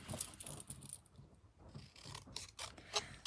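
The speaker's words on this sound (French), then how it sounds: "Donc là, je vais découper mon vœu." Scissors snip through paper to cut out a wish for a handmade card at a craft table, a run of close, crisp cuts with short rasping slides and a brief pause midway.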